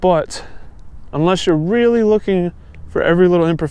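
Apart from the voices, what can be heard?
No everyday noise stands out behind the speech.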